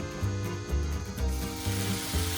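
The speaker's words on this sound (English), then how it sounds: "we're going to first cook the bacon" Bacon lowered into hot olive oil for an English breakfast sizzles and crackles steadily up close, with low rubbing thumps from the pan and tongs beneath the hiss.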